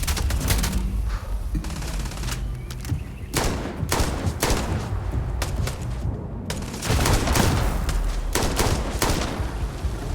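Sustained gunfire in the space role-playing game Starfield: rapid repeated shots and bursts across about ten seconds, dense and loud, with brief pauses between volleys.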